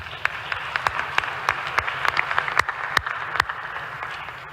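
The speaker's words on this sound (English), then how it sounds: "can we just give a round of applause for the representatives from Jamaica, Kenya, India and Peru." Applause at the INTERPOL General Assembly for a panel of representatives: a moderate crowd clapping with distinct individual claps standing out in a loose, steady rhythm over a hall's background hum.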